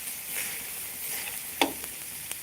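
Pork stir-frying in a pan, a steady broadband sizzle with a few sharp clinks of a spatula against the metal, fairly quiet and close, with no talking.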